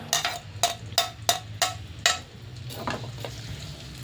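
A spatula taps and scrapes a pan about six times in a quick rhythm while garlic cooks in oil, with a low hum under it and a faint sizzle trailing off.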